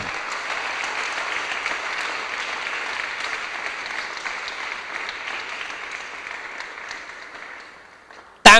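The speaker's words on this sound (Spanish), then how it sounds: "Dele un aplauso al Señor" During a Friday church service, a congregation applauds in a sustained, even round of clapping that slowly tapers off before a sudden loud burst at the very end.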